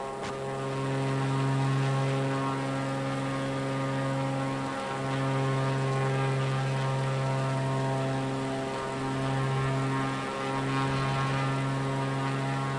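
A small propeller aircraft engine in Microsoft Flight Simulator: a steady, droning, harmonic hum at moderate volume, swelling and dipping slightly a few times as the power changes, with no talking.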